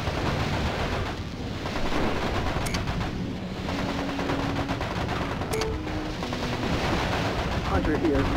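Gunfire striking mechs in MechCommander Gold, dense continuous crackling bursts and rumbling impacts throughout, with brief radio chatter tones mixed in.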